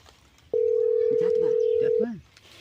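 A telephone ringing tone after a number is dialed: one steady, clear electronic tone that holds for about a second and a half and then cuts off, with faint voices talking underneath.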